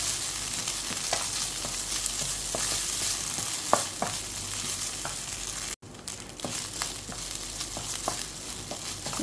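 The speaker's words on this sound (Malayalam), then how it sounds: "ഇനി ഇതിലേക്ക് നല്ല വെന്ത കുത്തിരി ചോറ് ഇട്ടിടുക" Cooked matta rice tossed into a frying pan and stirred, a steady soft sizzle with scattered light scraping taps of a spoon, one brief dropout midway, moderately quiet with no talking.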